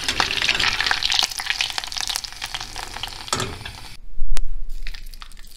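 Red pepper powder sizzling hard in very hot oil while making hıngel, a steady loud crackling hiss for about four seconds that then drops away, leaving a few faint pops.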